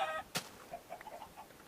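A chicken clucks in Minecraft beta 1.7.3. There is a sharp hit sound, then a series of soft, short clucks spaced irregularly, all fairly faint and close.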